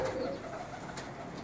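A domestic pigeon of a full, medium-sized breed coos softly and steadily, a low continuous murmur held close by over faint background hum.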